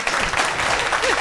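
A studio audience applauds at a televised prize-giving event, a brief burst of dense clapping with a voice speaking over it.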